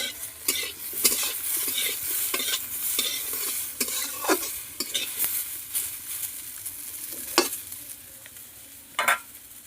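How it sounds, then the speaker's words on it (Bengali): Onion and green chillies frying in a pan, stirred with a utensil: continuous sizzle broken by repeated scraping strokes and metallic clinks against the pan, fairly close and moderately loud. "এবার ঢাকনাটা খুলে আরও একবার নাড়াচাড়া করে দিচ্ছি"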